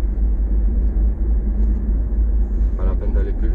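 A car rolling through a Paris street in third gear at about 30 km/h, a close, steady low engine and road rumble throughout.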